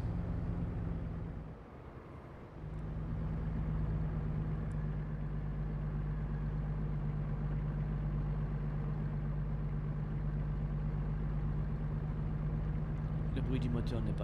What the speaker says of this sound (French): Le bruit du moteur n'est pas mal non plus.